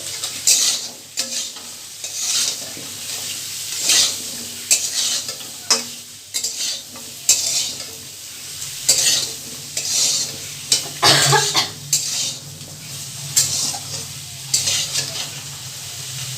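Spices with a little sugar being stirred into a raw seed banana curry in a pan, with repeated rhythmic scraping strokes over a faint sizzle, close and fairly loud.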